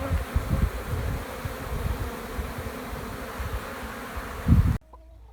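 Bees buzz loudly and continuously close by, a dense droning hum with rising and falling swells, cutting off abruptly near the end.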